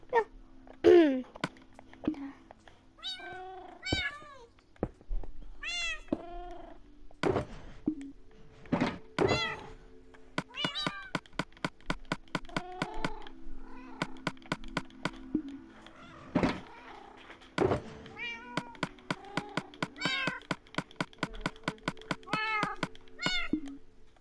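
A voice imitates a cat's meow over and over, with rising and falling meow calls scattered across the stretch. Rapid clicks and thumps from Minecraft gameplay run between them, and the overall level is moderate.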